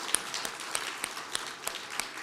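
A church congregation gives a sparse, quiet round of applause, the individual claps audible as a loose rhythm of separate hits.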